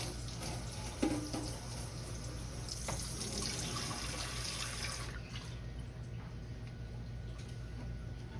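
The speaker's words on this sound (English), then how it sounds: "Rinse off my ladle." Tap water runs steadily while a metal ladle is rinsed at a kitchen sink during grape jelly canning, a close, even wash of water with a brief clink near the start.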